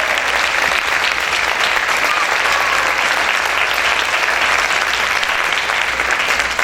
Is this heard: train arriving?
no